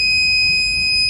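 An electronic refrigerant leak detector (Tek-Mate) sounding a loud, steady high-pitched electronic tone while checking an air conditioner for a freon leak, continuous and close.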